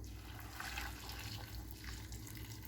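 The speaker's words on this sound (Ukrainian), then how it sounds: "Я наливаю кипячену водичку." Boiled water is poured into a saucepan of carrots and sweet potato, a soft continuous splashing trickle heard faintly and close.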